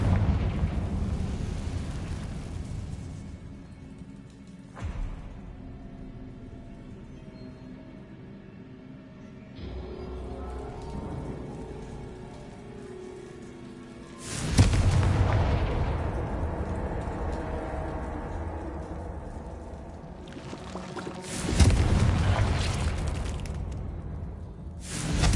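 Confringo fire spell in the game Hogwarts Legacy, several deep booming blasts spaced seconds apart, each followed by a long rumbling decay, loud and heavy with no talking.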